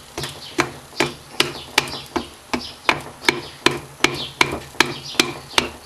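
A piston is tapped gently and evenly into the bore of a Golf GTI Mk2 1.8 engine, with about fourteen evenly spaced, close, sharp knocks at a steady pace of a little over two per second.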